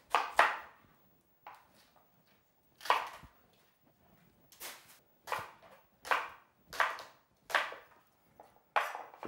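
A kitchen knife chops leek on a cutting board for ribollita in a Tuscan kitchen, a series of crisp, close strikes in irregular groups with short pauses and no talking.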